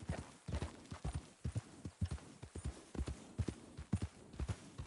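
Horse hooves clip-clop steadily in Red Dead Redemption 2 on PS5, a close, even trotting rhythm of distinct hoofbeats running throughout with no talk over them.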